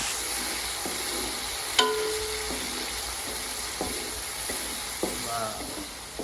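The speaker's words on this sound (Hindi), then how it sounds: "इधर हो गई भिंडी फ्राई" Okra frying in a pan with onions gives a steady close sizzle, broken by a sharp metallic utensil scrape and several softer stirring knocks against the pan.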